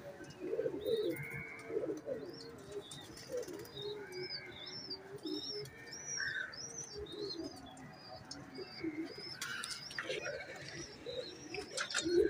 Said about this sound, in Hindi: ये छत वाला पेयर है, छत वाले कबूतर हैं।